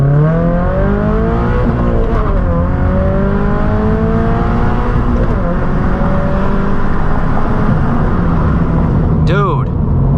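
A 2022 Subaru BRZ with a new MAPerformance exhaust revving loudly and close, its engine note climbing and falling in rising sweeps over a sustained drone, with a brief sharp squeal near the end.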